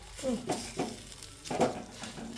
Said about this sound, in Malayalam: മുട്ട പൊരിച്ച് അത് മറിച്ചിട്ടോണ്ടിരിക്കുകയാണ്